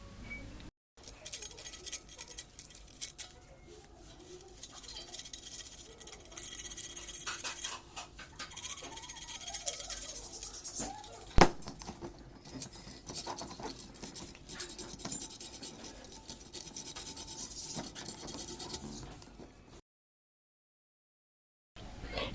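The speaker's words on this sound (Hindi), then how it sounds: "अब मैं एक रेगमार लेता हूँ और जो दरमियान में 2 नॉब्स थी जिसके ऊपर रस्ट जम गया था उसको मैं रगड़ के इससे बिल्कुल ही नए की तरह बना दूंगा" Sandpaper rubs back and forth across the rusted contact knobs of an electric iron, a close, steady scratchy scraping that runs for most of the clip, with one sharp click partway through before it cuts to silence.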